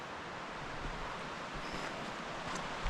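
Panther Creek rushes by beside the Middle Prong Trail, recorded on a GoPro 12, a steady broadband wash of flowing water at moderate volume, continuous throughout with no voices.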